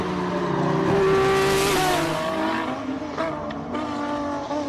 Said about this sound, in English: Great to see Wade Van Zoomeren's car in complete running order, and just the sound of this thing is just magnificent